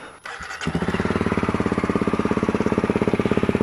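A Honda CRF250L motorcycle with a modified Yoshimura RS4 exhaust cranks briefly and fires up, then settles into a loud, close, steady idle with a rapid, even thumping pulse.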